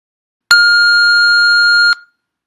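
A single steady electronic test-prompt beep from a TOEFL speaking practice test, loud and clean, holding one pure tone for about a second and a half before cutting off into silence.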